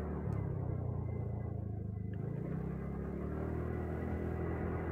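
A vehicle drives along the main road in Mahim on a rough stretch, giving a steady low engine rumble and road noise that holds evenly throughout, close up, with no talking.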